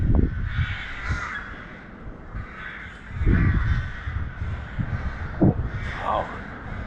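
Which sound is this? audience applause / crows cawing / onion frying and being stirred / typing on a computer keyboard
crows cawing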